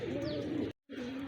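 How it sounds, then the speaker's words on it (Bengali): Silver racer pigeons coo softly and close by in a low, rolling call that breaks off for a moment and then resumes. "দেখুন কবুতরগুলা, সিলভার রেসার কবুতর"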